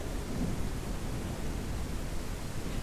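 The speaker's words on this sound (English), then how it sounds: "Oh, and then the really loud thunderstorm." A loud video-game thunderstorm: dense, continuous rumbling thunder blended with heavy rain hiss, steady and enveloping throughout with no pauses.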